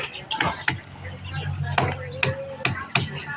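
Hammering in an indoor workspace, with several sharp, irregular strikes spaced about half a second apart while people talk in the background.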